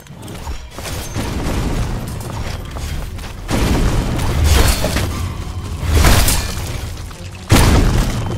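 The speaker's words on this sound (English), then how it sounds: "Let's just throw a frag grenade." Frag grenade explosions in a gory Roblox game: loud booming bursts with shattering debris hit several times in a row, each blast swelling and decaying, ending in a sharp final crack, with no talking.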